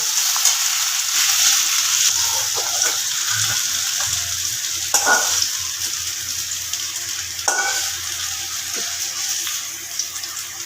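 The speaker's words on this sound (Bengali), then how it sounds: "পুরো লাল হয়ে ভাজা হয়ে গেছে আলুগুলো কিন্তু সেদ্ধও হয়ে গেছে" Potatoes fry in hot oil in a pan, a steady close sizzle with occasional scraping and stirring clatters and a few sharper knocks.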